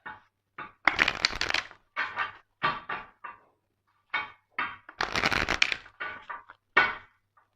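Tarot cards are shuffled, slid and tapped on a glass tabletop in a series of close, sharp, clattering bursts separated by brief pauses, loud against an otherwise silent room.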